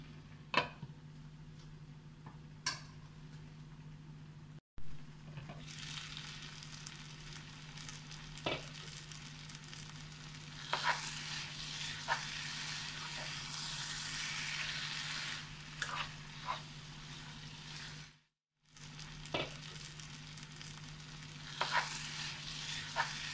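Raw plantain and prawns simmer covered on low heat, a faint, steady sizzle with occasional soft ticks and pops over a low hum, with two brief drops to near silence.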